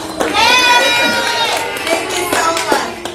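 A graduation crowd breaks into cheering and applause, a sustained wash of whoops and clapping that holds steady for a few seconds before thinning out.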